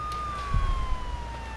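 A police car siren in the video game Grand Theft Auto III, a steady wailing tone sliding slowly downward over a low engine rumble, fairly close and alone without talk.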